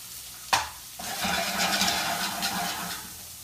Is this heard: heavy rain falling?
no